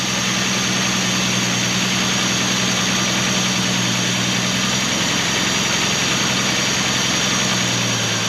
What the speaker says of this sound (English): it's idling a little high for my taste